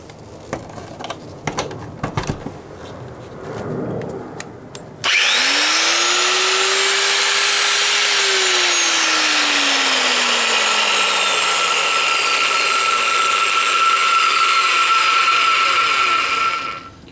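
A vintage yellow Bosch angle grinder from the 1970s-80s switched on after a few handling clicks, spinning up with a rising whine and then running in a steady loud high-pitched drone until it cuts off.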